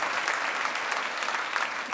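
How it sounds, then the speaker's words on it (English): Dense audience applause filling a packed theater stage event, an even, continuous roar of clapping with no pauses, moderately loud and close. "So give yourselves a round of applause for packing it out"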